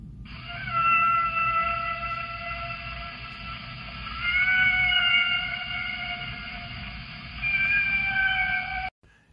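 Humpback whale song: long, eerie tonal calls rising and falling in pitch, repeated in three drawn-out phrases over a low watery rumble.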